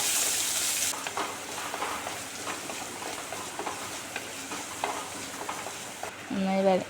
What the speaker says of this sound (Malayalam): സവാളയും കൂടി ചേർത്ത് കൊടുക്കാം പിന്നെ ഇനിയും കൂടി വഴറ്റിയെടുത്തതിന് ശേഷം